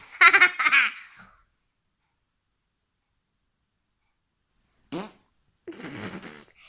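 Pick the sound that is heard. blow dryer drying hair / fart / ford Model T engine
fart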